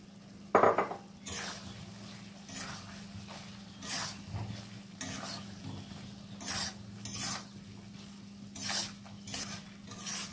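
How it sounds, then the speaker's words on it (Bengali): Potatoes are stirred into a chicken liver curry in a pot, a spoon scraping and clinking against the metal in intermittent bursts over a steady low hum, with no talking. "ঢাকাটাকে খুলে নিলাম, এবার আলুগুলো মেশাবো।"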